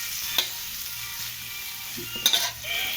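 Chayote sautéed in a pan for chopsuey gives off a steady, close sizzle, with a few metallic scrapes of a spatula stirring it, and no one speaks.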